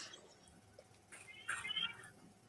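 A house cat meows faintly in the background, a short soft call rising briefly out of quiet room noise during a live jewelry auction stream.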